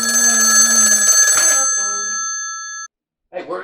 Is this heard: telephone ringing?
yes